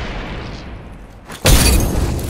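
A frag grenade in Apex Legends on PS4 Pro detonates with a sudden loud boom after a quiet lead-in, followed by a sustained rumbling, crackling blast tail.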